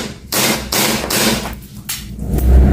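A silver-chrome WE 1911 .45 airsoft gas pistol firing in quick succession, several sharp loud cracking pops separated by brief gaps, each shot snapping close by with no talking.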